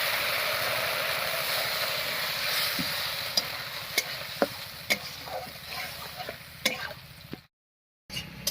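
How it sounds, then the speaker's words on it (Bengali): Ground cumin and coriander paste loosened with water sizzles in a hot pan while a duck egg curry is cooked. A steady frying hiss is punctuated by sharp spatula taps and scrapes, broken by a brief silence near the end. "এবারে মশলা বাটা জল দিয়ে দিয়ে খুব ভালো করে কষিয়ে নেব"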